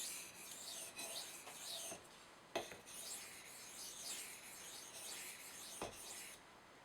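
A Spyderco Manix 2 knife in M4 steel is sharpened on a 1200 grit stone with light alternating strokes, a soft, quiet rasping scrape repeating in an even rhythm, with no talking.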